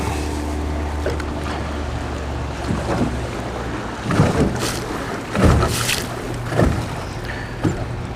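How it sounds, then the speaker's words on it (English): Water sloshes and slaps in uneven surges as a boat passes near someone fishing, with wind buffeting the microphone and a low rumble underneath. "a boat goes by"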